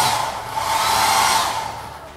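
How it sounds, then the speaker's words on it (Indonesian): A hotel room hair dryer in Palangkaraya is switched on for a test. It gives a loud, steady blowing whoosh that swells and then eases off over about two seconds, alone with no speech. "Ini hair dryer."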